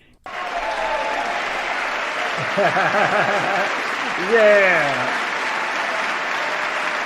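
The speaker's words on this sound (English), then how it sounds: "You get the applause from me." Sustained applause from a crowd at a Panthers at Lions post-game event fills the clip, with a few voices and brief exclamations rising over the clapping.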